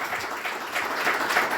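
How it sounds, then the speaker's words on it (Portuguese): A church congregation gives a round of applause for Jesus during a sermon, a soft, steady patter of many clapping hands heard from a distance. "Uma salva de palmas para Jesus"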